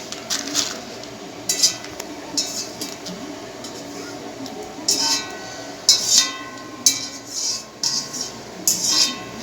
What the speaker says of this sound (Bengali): এখন এই যে চাল দিচ্ছে, এটা পুরো 1 কিলো চাল আছে।